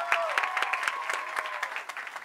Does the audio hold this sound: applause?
yes